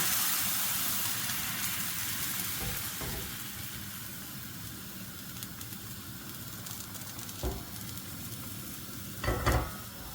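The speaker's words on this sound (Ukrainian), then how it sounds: "Розмішуємо тісто і виливаємо на сковорідку." Continuous frying sizzle crackles as pancake batter is poured into a hot pan, with a few short clinks and scrapes of utensils toward the end.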